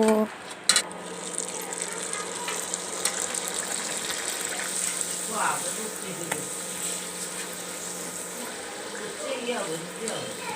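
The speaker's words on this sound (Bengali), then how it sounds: "এরকমভাবে সবগুলো লুচি আমি ভেজে নেব" Luchi flatbreads deep-frying in hot oil in a village kitchen, with a steady bubbling sizzle that runs throughout and a few faint clinks.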